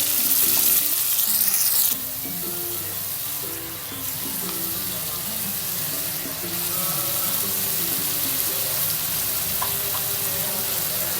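Ginger, garlic and green chili paste frying in a pan for a jackfruit and prawn curry, a dense, loud, crackling sizzle that dips briefly and then swells again, with faint stirring and no voices.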